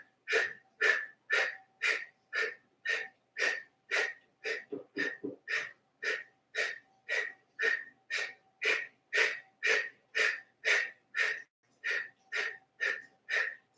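Forceful open-mouth exhales in yoga breathing repeat in a quick, steady rhythm, about two per second, each breathy and close, continuing alone with no talk.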